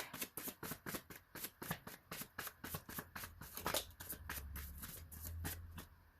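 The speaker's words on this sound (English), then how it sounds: "let's continue shuffling for some more" Tarot cards riffled and shuffled in steady rapid bursts, close and crisp, for several seconds, then a softer sliding shuffle near the end, with no talking.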